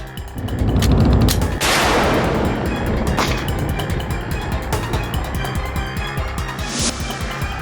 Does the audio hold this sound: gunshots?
yes